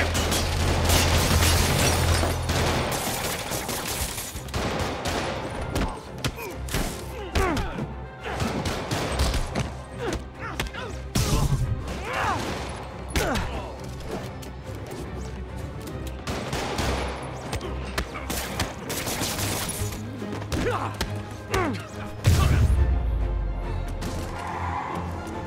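Gunfire in Spider-Man Remastered, dense rapid shots and machine-gun bursts with crashes and booms throughout a chaotic fight, loud and close, over rumbling game sound.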